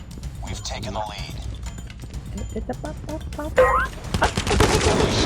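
Repeated bursts from the GKS gun in Call of Duty: quick, crisp shots in short strings, with someone talking over them throughout and heavier firing near the end.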